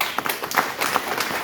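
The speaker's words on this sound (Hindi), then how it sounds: "और उनके लिए ताली बजा दीजिए।" Audience at a business gathering clapping in a brief burst of scattered, uneven hand claps, moderately loud and close, with no talk over it.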